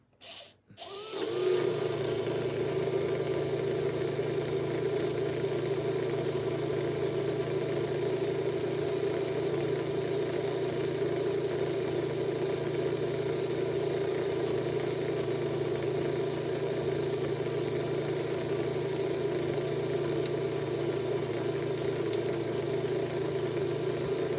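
A hopped-up four-gear dragster motor spins up on a dyno after a short start, then holds a steady, loud, high-pitched mechanical whine and buzz for over twenty seconds without any talking.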